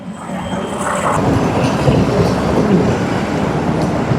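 Train rolling past a small roadside food stand beside the railroad tracks by the water in Colombo, Sri Lanka, a loud continuous rumble and rattle of wagons close by with faint squeals.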